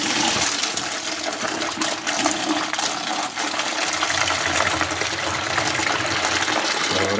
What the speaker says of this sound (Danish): Jeg gør altid det, at jeg lige skyller filteret en lille smule igennem, inden jeg kobler på til.